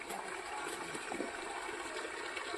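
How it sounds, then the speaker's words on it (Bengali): Waterfall water flows at Susunia hill with a faint, steady rushing wash, distant and even throughout with no voices. "এটাও ঝর্ণার জল।"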